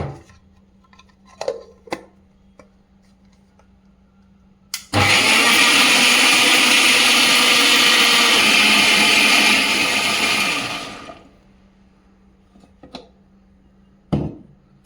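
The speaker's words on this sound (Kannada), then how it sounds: "ಇದನ್ನೀಗ ಸಣ್ಣಕ್ಕೆ ರುಬ್ಕೊಳ್ತೀನಿ." A kitchen mixer grinder runs loudly for about six seconds, whirring steadily as it grinds leftover rice with water for akki roti, with light clatter of the jar before and after.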